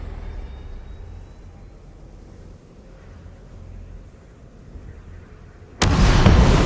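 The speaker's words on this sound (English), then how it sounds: "I didn't think the explosion would be this big" A huge explosion in the video game Doom: The Dark Ages erupts suddenly as a loud, dense blast after several seconds of low rumbling ambience, filling the whole range and staying forceful to the end.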